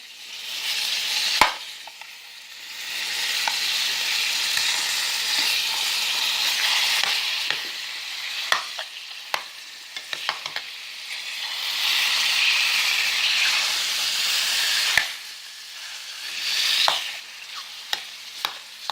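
Hot Italian sausage sizzles loudly in a pan, the hiss swelling and easing in waves, with sharp clacks and scrapes as the pieces are flipped over.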